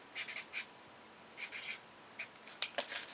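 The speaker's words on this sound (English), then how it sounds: "And so I write that on there like that." A pen scratches on paper while a date and right-hip injection site are written, short bursts of scribbling strokes with brief pauses, close and quiet.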